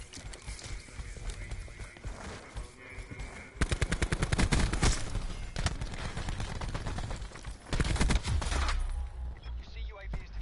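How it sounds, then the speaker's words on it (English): Rapid gunfire from a first-person shooter, Call of Duty Black Ops 4, bursts of automatic fire and shots in quick strings, loud and close, with game effects around them. "Gunshot"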